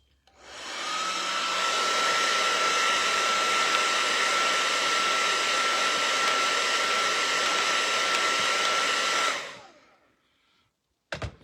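Hair dryer blowing on a paper and cardboard craft, switching on with a rising whoosh and holding a loud steady whir for about nine seconds before cutting off, followed by a small click.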